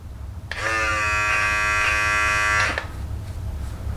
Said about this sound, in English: grab the trimmer, and there we go